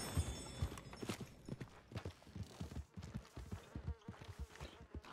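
Horse hooves clip-clop in a steady walking rhythm in the video game Project 1920, close and distinct, with a brief whinny-like texture and no talk.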